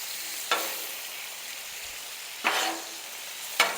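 Shrimp and vegetables fry on a Camp Chef griddle with a steady close hiss, broken by three sharp scraping stir strokes spaced a second or two apart.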